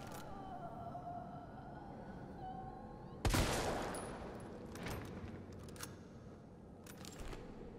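Gunfire in the video game Resident Evil 3: one sharp, loud shot cracks out of a quiet game ambience, followed by a few fainter impacts and echoes as the noise dies away.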